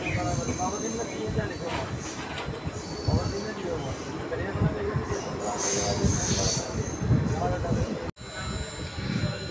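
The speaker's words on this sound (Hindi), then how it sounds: "गंगानगर पैसेंजर डिपार्चर ले रही है।" The Ganganagar passenger train departs Rajpura railway station, wheels rumbling and squealing on the rails in a loud, continuous roll, with people talking over it.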